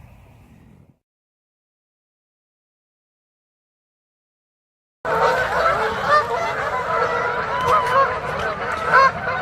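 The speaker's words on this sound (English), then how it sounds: "the geese are departing for the day, aren't we lucky?" Geese honk as they take off and fly away, a sudden burst of many overlapping loud honks arriving after several seconds of silence and continuing to the end.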